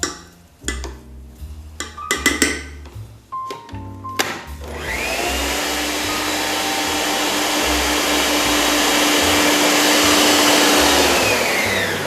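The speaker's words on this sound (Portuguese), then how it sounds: "E nós vamos bater até essa massa ficar bem lisa." An electric mixer beats savory panettone dough: a few seconds of clattering and knocking, then the motor settles into a loud, steady whirring drone that holds to the end.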